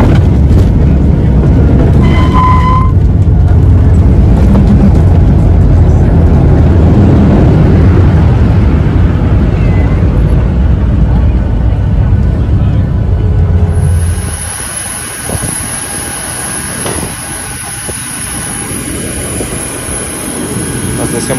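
Airplane landing at Santos Dumont airport in Rio de Janeiro, a loud steady cabin roar of engines and airflow that drops after touchdown to a quieter rumble with a thin high whine.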